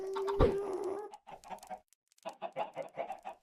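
Chickens in the video game Minecraft VR cluck in a quick burst of short clucks after a sharp hit, then a repeated run of clucking, fairly close and alone without talk.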